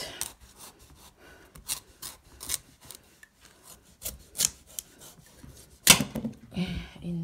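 Knife cutting the top off a whole pumpkin for a stuffed pumpkin dish: a series of short, separate rasping cuts and scrapes, fairly close, with a louder crunch near the end, and no speech.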